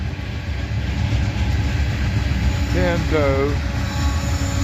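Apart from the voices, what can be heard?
freight train's distributed power unit locomotive passing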